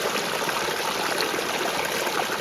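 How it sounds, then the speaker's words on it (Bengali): Water pours down the Khoiyachhora waterfall, a tall multi-step hill falls about 110 metres high, as a dense continuous rushing roar, close and loud, steady with no breaks or voices. "প্রায় ১১০ মিটার উচ্চতার এই ঝর্ণা দেশের অন্যতম বৃহৎ বহুধাপ বিশিষ্ট ঝর্ণা।"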